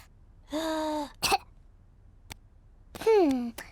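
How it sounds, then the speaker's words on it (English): A drawn-out, voiced breath in, then a quick sharp cough, followed by a moaning exhale with a falling pitch; close and fairly loud. "take a big breath in, then cough."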